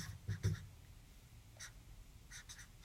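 Marker or pen strokes on a board, sketching a cross section while working through a rectangular prism volume lesson, come in short scratchy bursts with pauses between, fairly faint and close.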